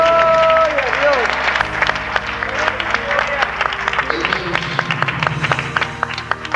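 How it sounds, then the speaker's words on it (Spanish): A church congregation claps for Rey during a sermon by a pastor, a steady patter of many hands beneath talking and music, ongoing throughout. "Un aplauso a Rey"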